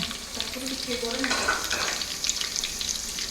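Chopped onions frying with whole spices in a pot for biryani, a steady close hiss and crackle with occasional stirring scrapes and faint voice fragments in the background.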